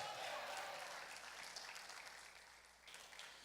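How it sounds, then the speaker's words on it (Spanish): A church congregation claps in praise during a Spanish-language sermon, a dense, steady wash of applause that starts strong and tapers slightly over a few seconds, with no speech over it. "Dele palmas fuerte al Señor, hermano, a su nombre."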